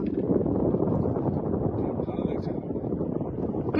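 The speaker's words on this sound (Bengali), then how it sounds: "দারুণ হাওয়া হচ্ছে।" Steady wind gusts buffet the microphone outdoors across open rural fields on a countryside outing, a continuous loud rumble lasting throughout.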